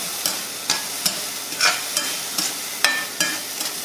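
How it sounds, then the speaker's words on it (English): Onions and peppers sizzle in a pan for a tofu scramble, a steady hiss broken by regular scraping clicks as a utensil stirs the mixture every half second or so. "After a few minutes, you stir your mixture a little bit."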